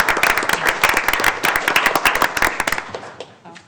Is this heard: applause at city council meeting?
yes